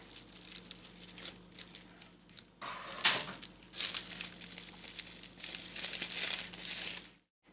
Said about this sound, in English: Let me open it with scissors.